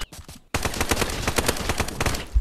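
Rapid gunfire from a VR shooter, Contractors VR, rattles in a dense burst of close shots after a brief silence, ending with a low thump.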